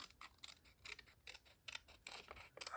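Scissors cut out paper for a mixed media art piece, a faint, close series of crisp snipping clicks in an uneven but steady rhythm.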